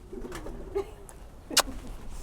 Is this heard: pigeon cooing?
yes